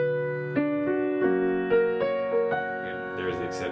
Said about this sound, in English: we'll play that root note an octave higher.